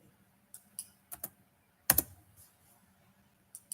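Scattered keystrokes on a computer keyboard, a few isolated clicks and a short cluster of louder taps, close and quiet with silence between, no one speaking.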